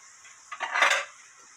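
Stir-fried fish cake with aged kimchi is served onto a plate, heard as a brief, close clink and scrape of a utensil against dishware over a faint steady background hiss.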